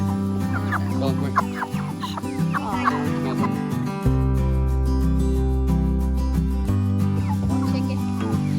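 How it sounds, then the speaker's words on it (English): Meat chickens cluck and call in a busy, overlapping flock, fairly close, over a steady droning hum in the background. "Chicken."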